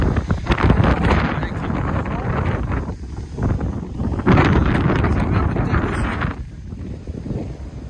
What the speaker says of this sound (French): Avec le vent.